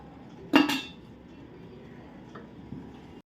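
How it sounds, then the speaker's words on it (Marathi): A metal lid clanks down onto a steaming pot of sabudana papad mixture, giving one sharp clatter followed by a quieter rattle and a faint clink later on, with no talking. "आता आपण झाकण ठेवूया"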